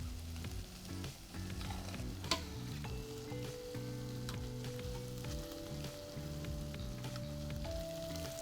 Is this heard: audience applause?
no